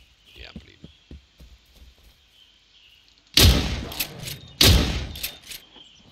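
Gunshots in the survival game Miscreated: two loud booming shots with echoing tails, followed by sharper smaller cracks, after a quieter stretch of soft thuds and faint background voice.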